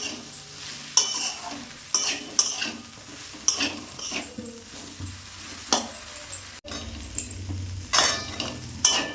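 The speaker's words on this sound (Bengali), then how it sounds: "এর মধ্যে পোস্ত বাটা দিয়ে দিলাম, দিয়ে নেড়ে নিলাম।" A spoon stirs poppy seed paste with cauliflower and potato in a frying pan, giving repeated close scrapes and light metallic clinks over a soft, steady sizzle, with no talking.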